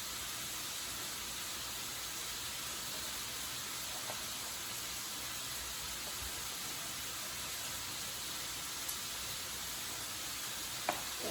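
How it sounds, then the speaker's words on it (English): Meat sizzles in a skillet on the stove, a steady, even hiss of frying that runs unbroken throughout, with only a few faint clicks and no talk. "the meat is cooking in the skillet on the stove"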